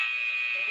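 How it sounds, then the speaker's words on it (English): A loud, steady electronic workout timer buzzer tone sounding continuously without a break, close and harsh. "At the buzzer."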